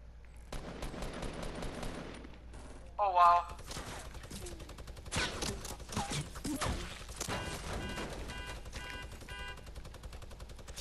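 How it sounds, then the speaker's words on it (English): Crossbow video game gameplay with a steady stream of sharp shots and impacts, clustered bursts coming fast at moderate loudness over a constant low hum, with one louder tonal flare near the start. "Where are these shots coming from?"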